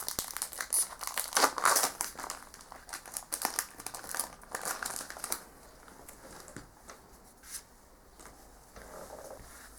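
A Pokemon TCG XY Flashfire booster pack being torn open, with loud close crinkling and tearing of the foil wrapper in the first half, then softer intermittent rustles and crackles of handling.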